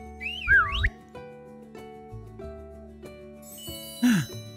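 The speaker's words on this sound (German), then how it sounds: "Versuch's mal mit Pfeifen." A sliding whistle calls a horse in the Doraemon Story of Seasons farming game on Switch, a short rising-and-falling whistle near the start and another brief whistle near the end, over soft chiming game music, no talk.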